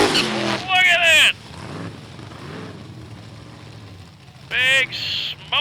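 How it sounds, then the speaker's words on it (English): Two 1958 Chevrolet drag race cars do smoking burnouts at a drag strip. Engines roar and rev in loud bursts at the start and again near the end, with a quieter rumble between and an announcer talking over them. "Big smoking burnouts out of both cars."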